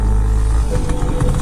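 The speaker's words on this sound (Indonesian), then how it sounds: "Suara knalpot motor memecah suasana malam itu." A motorcycle engine rumbles steadily close by, its exhaust a low continuous drone with slight revving fluctuations.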